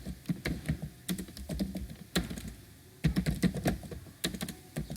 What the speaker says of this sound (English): Suppose if I type just something like this